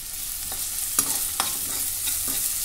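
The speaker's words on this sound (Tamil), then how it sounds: "எண்ணெய் காஞ்சதும் கொஞ்சம் வெங்காயம்" Sliced onions fry in hot oil for a mutton kuzhambu, a steady close sizzle with a few sharp scraping stirs of a spoon against the pan at irregular intervals.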